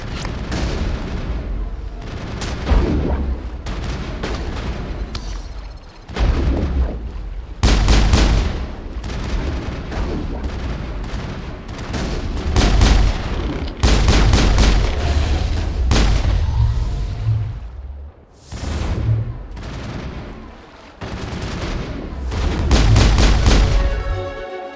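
A battle in the Mass Effect video game, with loud, dense gunfire, heavy booming explosions and rapid bursts that keep coming in waves for about twenty-five seconds.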